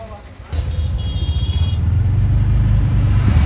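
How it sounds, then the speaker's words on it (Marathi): An auto rickshaw engine starts up loud and close after a brief pause, then settles into a steady rhythmic throbbing rumble. "हे आमच्या ऑटो रिक्षा मित्रांनो."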